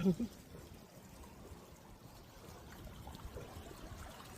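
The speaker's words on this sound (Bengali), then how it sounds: "পানির আওয়াজটা কিন্তু এখান থেকে আসছে" Water flows in a park, heard as a faint, steady broadband rush. A brief bump of noise sounds at the start.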